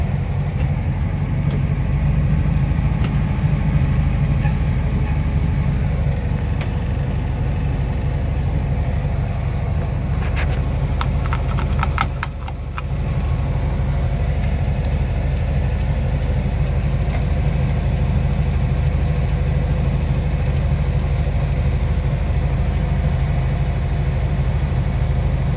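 A 1971 VW Type II bus engine idles steadily while warming up, a low, even rumble that holds throughout with a brief dip midway and faint clicks above.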